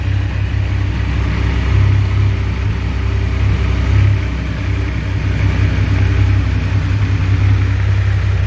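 A Triumph Rocket 3 GT motorcycle with a 2500cc engine and three exhaust pipes idles close by, a deep, even, low rumble that holds steady throughout.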